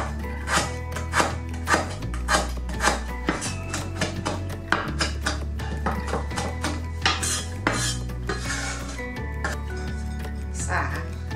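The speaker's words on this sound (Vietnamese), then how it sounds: "thái nhỏ sả" Rapid, rhythmic knife chopping of lemongrass on a board, steady strokes close up, with background music running underneath.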